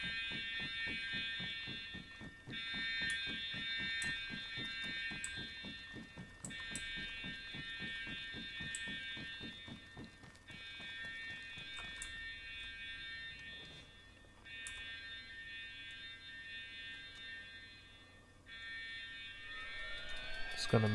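A loud base alarm blares during a loot raid in a video game, a repeating electronic wail that pulses continuously over game noise and faint talk.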